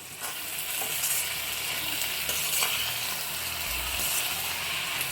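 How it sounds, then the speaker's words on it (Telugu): Fried dry fish is stirred into a brinjal curry in a pan, giving a steady sizzle and hiss with scattered scraping taps from the stirring, close up and without talk. "ఇప్పుడు వేయించుకున్న డ్రై ఫిష్ని అయితే కలుపుకోవాలి"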